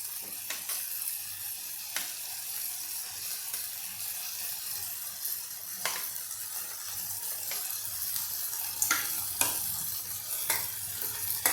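Tomatoes and onions frying in a tadka for Rajasthani panchmel dal, a steady soft sizzle with occasional faint clicks of stirring, alone with no talk.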